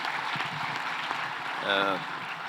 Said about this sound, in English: Please give a clap to our Vice President.